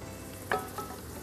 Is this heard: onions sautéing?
yes